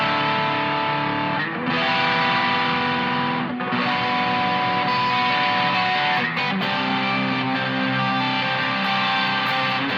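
An electric guitar through a distortion pedal plays sustained, heavily distorted buzzing chords, loud and continuous with short breaks between strums.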